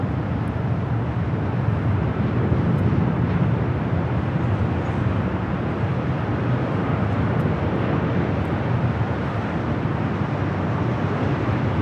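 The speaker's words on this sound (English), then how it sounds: "Hawaiian Airlines Flight 2 coming in from Honolulu" A Hawaiian Airlines jet arriving from Honolulu lands at Los Angeles International Airport, giving off a steady, broad roar that holds for the whole stretch with light wind buffeting and no voices.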